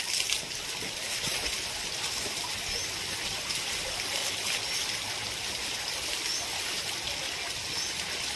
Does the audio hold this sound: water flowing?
yes